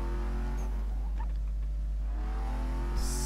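A Porsche Panamera Turbo S in Need for Speed Most Wanted 2012 cruises with a steady low engine drone, continuous and even, with a brief brighter burst near the end.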